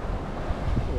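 Wind and waves at sea aboard a sailing boat near the Canary Islands, a low rumbling buffet of wind across the microphone over steady wash of water, no talk.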